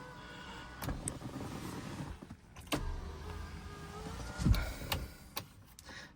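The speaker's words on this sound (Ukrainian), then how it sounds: "Стекло підіймати. Працює. Два задніх. Ну, по звуку можна зрозуміти, що працює." Rear electric window motors whir inside a 2020 JAC S2 car that has a window and central-locking fault, running in short bursts with a few clicks of the switches, heard close up in a quiet cabin.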